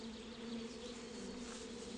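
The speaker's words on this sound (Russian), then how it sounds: "Редкие бурзянские пчелы." Rare Burzyan bees buzz steadily near forest hives in the Bashkortostan mountains, a continuous close drone with no pauses or voices.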